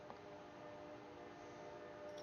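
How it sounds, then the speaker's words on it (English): A train runs on nearby railroad tracks, a faint steady rumble with a thin tonal hum, low and continuous in the background, no voices over it. "sorry for that train if you can hear the train"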